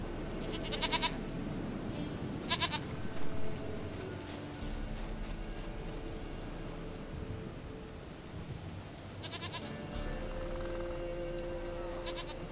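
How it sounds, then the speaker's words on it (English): A goat in The Witcher 3 bleats in short repeated cries, a few early on and more near the end, over a steady ambient background of wind and surf-like wash. "Goat of mine, dearest, sweetest goat."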